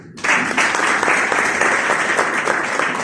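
Loud, sustained applause from a crowd begins abruptly and continues evenly with dense clapping throughout.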